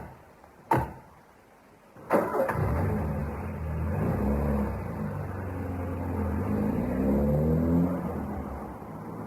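A car engine in a radio comedy sound effect: two sharp clicks like a door or ignition, then an engine catches and settles into a steady, moderately loud idling and revving rumble.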